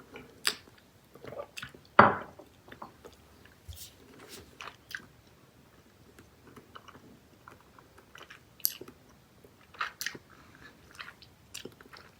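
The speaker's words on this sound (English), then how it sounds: "When you start chewing on this candy, it becomes like almost grainy, like very grainy, almost sand-like" Japanese Taiki Miyako hard candy is chewed up close. Scattered crunches and soft, wet bites come at an irregular pace, with one louder crunch early on and quieter chewing sounds in between.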